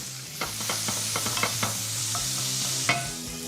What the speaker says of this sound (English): Get that bacon really nice and crispy. Fry off the chilli